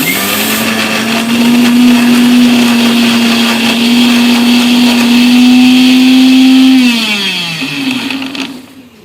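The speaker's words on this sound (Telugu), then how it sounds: "దీన్ని మళ్ళీ ఒకసారి మిక్సీ పట్టుకుంటే మెత్తగా పేస్ట్ లెక్క అయిపోతుంది" A loud mixer grinder whirs steadily at high speed grinding chilli paste, then its pitch drops as it winds down near the end.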